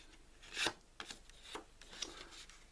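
Paper being folded into an accordion for a Christmas tree garland, a few soft crisp creases and rustles in a quiet room, each brief and close.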